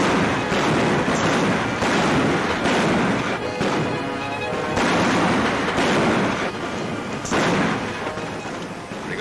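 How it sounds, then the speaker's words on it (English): Gunfire in a 1952 western film shootout rings out as a continuous barrage of loud, overlapping shots and cracks. Repeated bursts swell and fade over several seconds, dense and close, with no speech. "Pretty good shooting, Mike."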